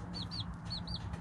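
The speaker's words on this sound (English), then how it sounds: "I have this little chicken in timeout because she was not wanting to leave the nest" A hen clucks near her nest, making a run of five or so quick, soft, evenly spaced chirping clucks over a low background hum, with no voices.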